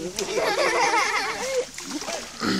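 Water splashes and sloshes as a child bathes, with continuous close splatters and people talking over the top throughout.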